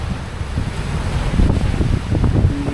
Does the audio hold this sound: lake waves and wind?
yes